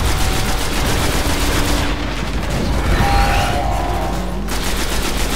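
Sustained rapid gunfire from the Destiny video game, loud and close, with bursts of automatic fire and booms running continuously with no break and no talk.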